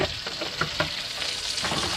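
Pot stickers fry in a pan, a steady close sizzle broken by a few sharp crackles and pops.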